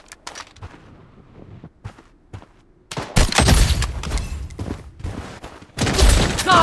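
Bursts of rapid gunfire rattle in the Blood Strike shooter on PC: a few scattered shots at first, then a sustained heavy volley and another loud burst at the end.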